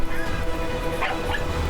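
A cartoon detective dog lets out a few short, yappy barks and whimpering yips over a busy animated soundtrack, the sounds fairly close and of moderate loudness.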